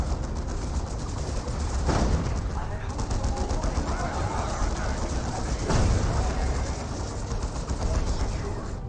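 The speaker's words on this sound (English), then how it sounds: "We do also have the last cannon now hitting that Wraith Lord" Cannon fire hammers a Wraith Lord during a Dawn of War 2 Elite Mod battle, with dense, continuous bursts of gunfire and heavy impacts. Sharper blasts stand out amid the steady barrage.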